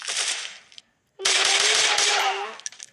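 Rapid automatic gunfire rattles in two loud, sustained bursts separated by a brief silent gap.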